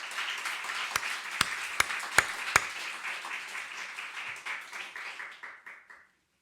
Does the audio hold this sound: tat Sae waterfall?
no